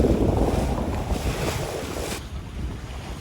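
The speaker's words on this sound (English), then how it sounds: "Now we're sailing." A sailboat moving on open water gives a steady rush of wind and waves, with heavy wind buffeting on the microphone that eases partway through, and no talking.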